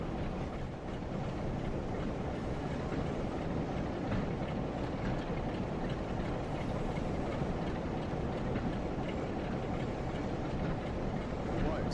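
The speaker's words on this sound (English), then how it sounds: "Shunting away" Freight train shunting on the Blackpool Branches route in Train Sim World, a steady dense rumble of rolling wagons and engine with faint rail clatter, continuous and fairly loud throughout.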